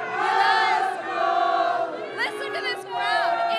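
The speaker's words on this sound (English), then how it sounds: "Listen to this crowd." Dense street party crowd outside Minute Maid Park, a loud continuous roar of many voices shouting and cheering, swelling and dipping with overlapping yells close by.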